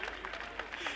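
Audience applause at a Hindi kavi sammelan poetry gathering: a brief burst of dense, steady clapping from a crowd, fairly loud and continuous throughout.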